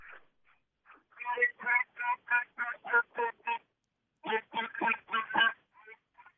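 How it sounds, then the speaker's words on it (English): During a youth duck hunt, rapid runs of loud, nasal duck quacks in two bursts with a short pause between, fairly close and clear against a quiet background. "Calling on these ducks, and they coming in here pretty good right now."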